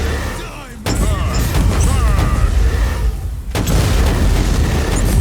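Gunfire and heavy blasts in the Warhammer 40,000 Inquisitor - Martyr video game form a loud, dense barrage of booms and rapid shots that continues almost unbroken, with one brief lull.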